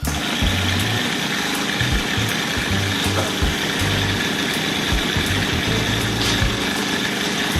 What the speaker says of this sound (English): So I'm just gonna go one more time and blend it a little bit smoother.